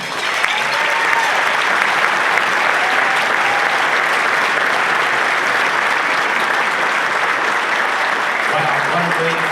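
A large audience at a town's State of the Town presentation applauds steadily as the mayor comes up, dense clapping that stays loud and even throughout, with no clear voices on top.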